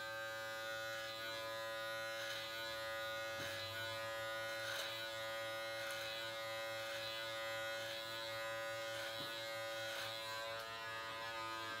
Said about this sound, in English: we're gonna start with a 3 millimeter, put it on there. Go straight down to trim the sides here.